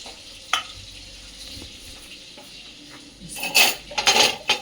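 Spoons clink against dishes during a home dinner, with scattered light taps early on and then a louder cluster of bright clattering bursts near the end.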